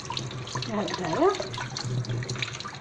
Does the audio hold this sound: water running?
yes